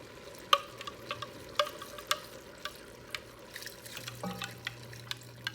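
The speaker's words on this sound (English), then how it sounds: "I'm going to stir it and make sure that it's mixed good." Homemade chili seasoning mixture being stirred, with soft scraping and clinking spoon taps spaced through the clip over a low simmering, liquid background hiss, moderately quiet and close.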